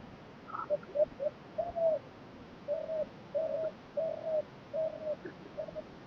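Soft, bubbling laughing dove coos repeat in an even run of short phrases, moderately distant over faint outdoor ambience in Kausani, Uttarakhand.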